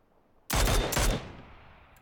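Gunfire bursts in the PUBG battle royale game, a sudden loud volley of rapid shots lasting under a second, then a lingering fading tail with a faint click at the end.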